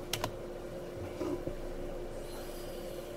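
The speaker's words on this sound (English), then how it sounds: "So at the moment, we start off by typing it in." A search word is typed on a computer keyboard, a few quiet clicks and taps against a steady low hum, without any voices.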